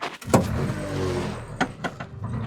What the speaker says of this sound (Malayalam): സോ നമുക്ക് വണ്ടിയുടെ കിക്കർ എന്ന് അടിക്കാം